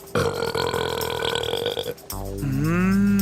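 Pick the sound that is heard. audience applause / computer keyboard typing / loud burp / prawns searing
loud burp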